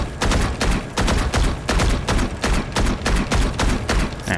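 Rifle fire from the Valorant video game during strafe-stop-shoot practice: short, loud bursts of gunfire repeat in a steady rhythm, each cluster of shots followed by a brief pause.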